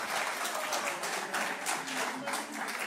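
An audience breaks into sustained applause, a dense wash of many hands clapping at an even level throughout.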